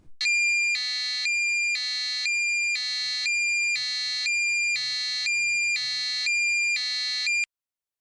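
A buzzer driven by an STM32 microcontroller sounds a bright electronic tone in seven evenly spaced bursts, each lasting about half a second with short gaps between, loud and close, ending abruptly.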